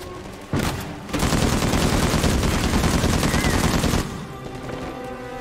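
Rapid bursts of gunfire in the Uncharted 4: A Thief's End action game, loud and dense for about three seconds after a sharp opening shot, then dropping to quieter background noise.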